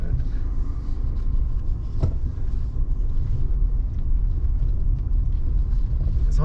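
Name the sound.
car tires driving through a rut on a dirt road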